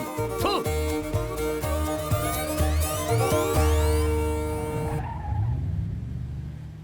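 A new car is driven off hard in a Hindi-dubbed comedy film scene, its engine revving loudly with skidding, screeching tires over a few seconds before the noise drops off abruptly near the end.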